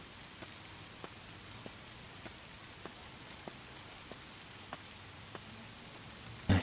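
Rain falls at Sosnowiec Główny station in the SimRail train simulator game, a soft, steady hiss with faint drips ticking at regular intervals, heard alone.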